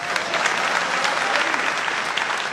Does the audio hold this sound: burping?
no